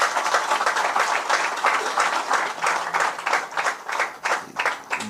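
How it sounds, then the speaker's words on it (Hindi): An audience at a BJP office training session claps together in a steady run of distinct hand claps, fairly close and continuous throughout, with a faint voice underneath. "ताली वाली बजाओ इस बात पे"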